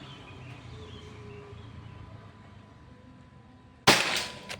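A Pajero Gun Gen 6 air rifle fires one sharp, loud crack near the end during an accuracy test, after several seconds of quiet outdoor ambience, with a brief ringing decay.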